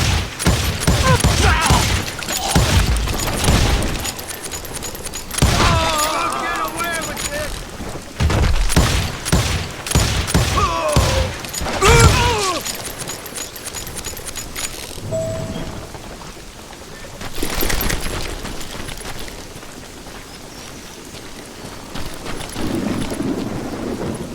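Gunfire rings out in the Western shooter Call of Juarez: Gunslinger, with repeated loud bursts of shots in clusters during the first half and scattered shots later, mixed with voices and ambient noise.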